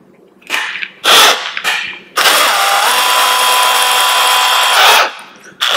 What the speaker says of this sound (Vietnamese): Rồi các bạn khoan thôi. Cái mũi khoan này của tôi là cái mũi khoan gỗ đi.